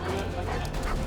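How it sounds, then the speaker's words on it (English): A school therapy dog playing with a police K-9, short yips and barks that are fairly loud and close, mixed with background noise. "King had a play date with his buddy Dude, the school's therapy dog"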